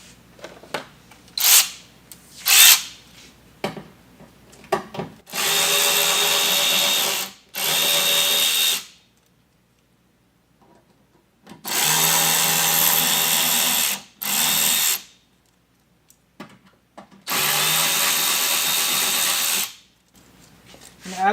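A power driver backs out T15 Torx fender liner screws on a 2023 Chevrolet Colorado ZR2, whirring in three sustained close bursts of a few seconds each, separated by quiet pauses and light handling clicks.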